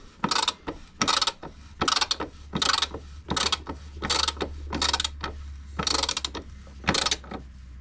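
A ratchet wrench tightening the rear toe adjustment bolts on a car, giving a series of close, loud bursts of clicking pawl strokes in a steady rhythm with short pauses between pulls, over a low hum.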